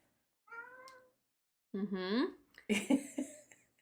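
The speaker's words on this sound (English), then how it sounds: "I think I just about heard that meow." A cat gives two close meows, the second longer and rising, then a person starts talking.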